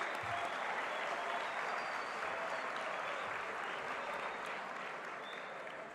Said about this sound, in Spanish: Un gran aplauso también de la sala Techín.